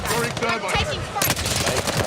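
Rapid automatic gunfire from the Warzone video game, loud and continuous bursts heard close with a voice speaking over part of it.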